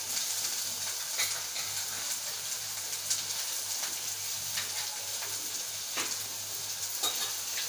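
Red pumpkin pieces sautéing in a pan for a Malvani-style vegetable dish, giving a steady soft sizzle with occasional stirring scrapes and clicks throughout, close up and with no talking.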